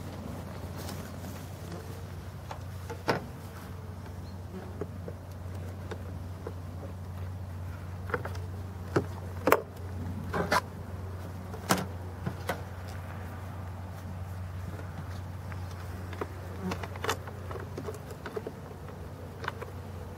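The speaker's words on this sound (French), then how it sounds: "il y avait un peu d'abeilles en défense" Honey bees buzzing in defence at a hive entrance fitted with an anti-hornet guard, a faint, continuous low hum broken by scattered quick insect fly-bys and light taps.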